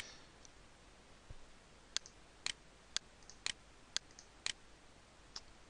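Computer mouse clicking while editing a Team Fortress 2 map: about seven sharp, close clicks at a steady pace of roughly one every half second over a quiet background hiss.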